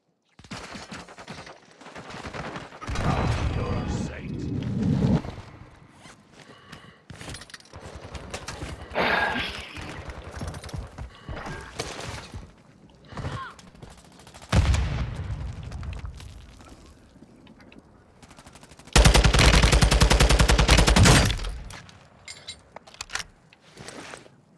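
Gunfire from a 20-round weapon in Warzone 2 comes as repeated rapid bursts of loud automatic shots, separated by short pauses, with one especially dense, intense burst near the end.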